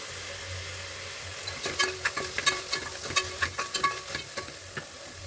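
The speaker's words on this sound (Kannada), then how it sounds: "ಇವಾಗ ಟೊಮೊಟೊನು ಚೆನ್ನಾಗಿ ಫ್ರೈ ಆಗಬೇಕು." Tomatoes with turmeric fry quietly in a pan under a low sizzle, while a spoon scrapes and taps in a quick run of stirring strokes through the middle of the clip.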